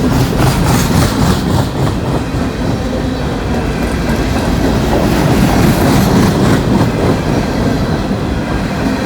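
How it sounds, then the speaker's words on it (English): A Norfolk Southern freight train of intermodal containers, auto racks and hoppers rolls through an elevated curve, a loud continuous rumble with rhythmic wheel clatter over rail joints, close by and without speech. "It's usually not that long of a train."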